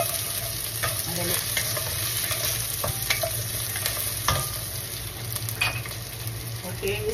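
Spare ribs for sweet and sour are stirred in a hot iron wok. A close, continuous sizzle runs under repeated scraping and metal clinks from the stirring, and no one speaks.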